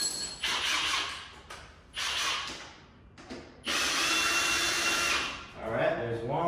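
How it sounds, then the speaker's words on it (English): A small brushless Ryobi power tool loosens 8mm bolts on a 2003 Honda CR125R dirt bike, with three loud bursts of whirring and rattling separated by short pauses, close by. "8mm bolts loose. And then I'll hit them with the little brushless Ryobi."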